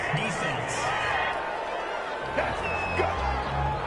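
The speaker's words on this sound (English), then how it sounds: "This home crowd, they're happy with that call." A home stadium crowd in an American football video game on PS4 roars and cheers in a broad, sustained swell, with commentators talking over it.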